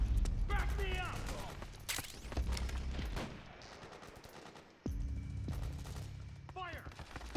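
Gunfire in the Metal Gear Solid 4 video game, in a battle setting: bursts of automatic fire and single shots, loud and close, with soldiers shouting over the shooting.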